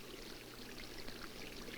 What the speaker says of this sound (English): The water running down the canyon represents the normal flow of the stream.